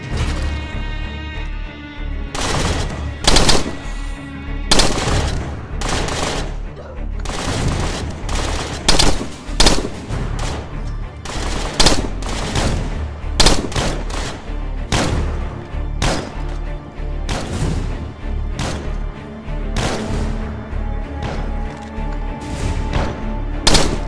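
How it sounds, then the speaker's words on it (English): Mortar barrage and gunfire in the State of Decay Lifeline DLC, a loud, sustained run of repeated blasts and rapid shots with heavy booms at irregular intervals, continuing without speech. "Mortar team, fire barrage on my smoke."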